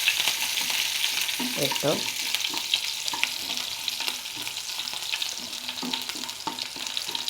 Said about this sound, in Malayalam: നമുക്ക് അരിഞ്ഞു വെച്ചിരിക്കുന്ന പച്ചമുളക് അതിലേക്കിടാം